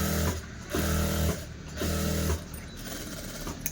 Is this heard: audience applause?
no